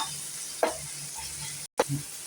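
Chopped onions sautéing in a pan for masala dosa filling, a soft steady sizzle with a couple of brief stirring scrapes and a short gap.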